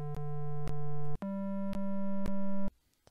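A 4klang synthesizer oscillator plays a buzzy pulse tone, two sustained pitched notes with a rich stack of harmonics and sharp clicks at each note start, ending abruptly into near silence.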